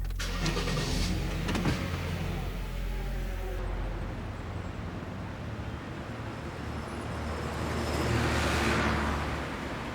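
A car engine rumbles steadily at close range, then the vehicle pulls away with a rising hiss of motion toward the end; no one speaks over it.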